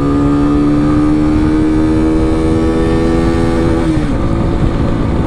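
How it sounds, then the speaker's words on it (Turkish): A Superlight 125 motorcycle engine, newly in break-in, revs hard under full throttle, a loud, close, steady drone whose pitch holds high and then dips near the end. "İlk kez gazı açıyorum."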